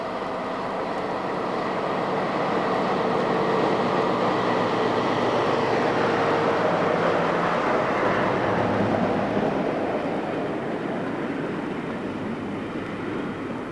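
Rail tour train hauled by locomotives 60039 and 66042 on the Grain branch in Kent, rumbling past with a steady, continuous roar and broad wheel noise that stays loud throughout.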